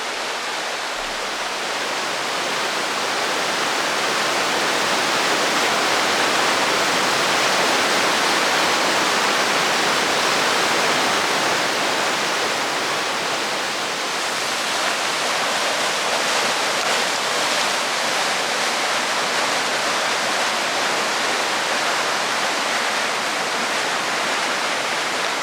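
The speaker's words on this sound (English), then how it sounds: "the water funnels down this gorge and creates its own eddies and wee whirlpools, some force of water" Water rushes and churns down a narrow gorge in the Cairngorms, forming eddies and small whirlpools; a loud, steady broadband roar continues without pause throughout, with no voices over it.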